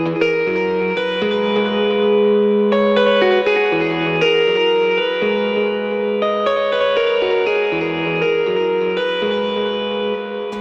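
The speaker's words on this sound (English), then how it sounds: "you can begin to hear kind of like some sort of a pumping effect happening there" An electric guitar drenched in delay and reverb rings out in sustained, overlapping chords, a compressor audibly pumping the level as notes swell and dip, played alone with no talking.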